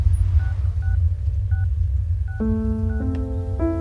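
Phone keypad dialing tones during a call, a sequence of short steady beeps, one after another at an uneven pace over a low background rumble, then a few longer overlapping tones near the end.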